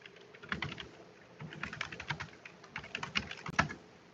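Steady typing on a computer keyboard, quick irregular clusters of light key clicks with brief pauses, close and fairly quiet, no talking.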